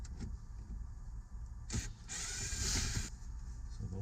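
Recessed dash panel screws are backed out of an International truck's dashboard, heard as short whirring bursts, one brief and one about a second long, over a quiet, faint background.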